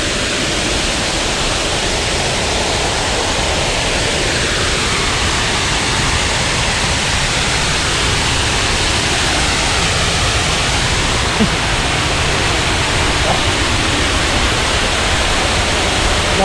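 Loud, constant rushing water fills the whole stretch, a dense steady roar like a fast-flowing river close by.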